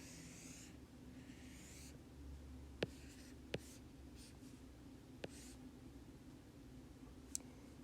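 Pencil or pen scratches softly on paper for a quick sketch, faint scratchy strokes come in short bursts, with a few sharp little taps or clicks, close and quiet, no talking.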